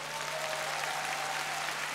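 Steady applause from a crowd at the YUNA 2019 music awards, continuous and fairly loud throughout, with a low hum underneath.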